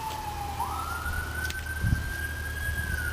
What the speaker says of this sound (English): you got to have a damn siren going